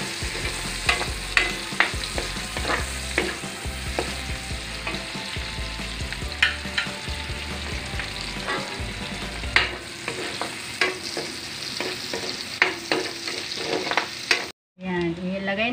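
Garlic sizzles and crackles in hot oil in a pan while being stirred for a pork dinuguan, with steady frying hiss and repeated clinks of a utensil against the pan throughout, briefly cutting out near the end.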